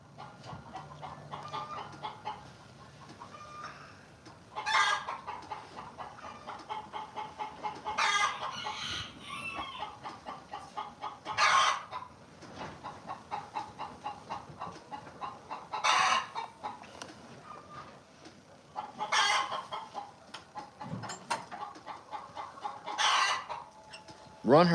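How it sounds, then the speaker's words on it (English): Chicken clucks repeatedly at a ranch, a hen close by making sharp bursts every few seconds over a steady low background, with some rooster-like calls mixed in. "if I had something right now, I'd throw it at that chicken"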